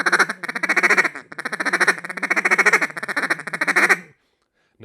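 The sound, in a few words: duck call played by fluttering the tongue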